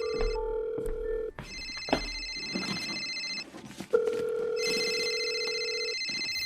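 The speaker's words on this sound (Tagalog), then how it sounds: "Bakit cellphone mo yung nagre-ring" A cellphone rings loudly with a steady electronic ringtone of sustained tones that break off and start again, close and clear, with a few brief knocks in between and no talk.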